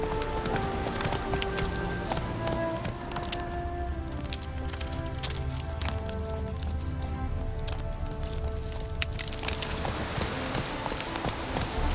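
Horse hooves clip-clop in The Witcher 3 on a horse that has started to go lame, a steady run of hoof strikes over a rain-like hiss and game ambience, with no talk.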